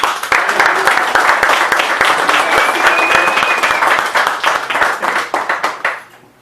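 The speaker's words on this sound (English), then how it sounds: "Please give Chris a round of applause." Steady applause from a crowd, dense clapping throughout that gradually thins and fades out at the end.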